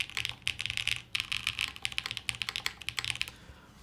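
Continuous rapid typing on a low-profile mechanical keyboard, dense clicky keystrokes in an uneven rhythm, close and clear with no talking.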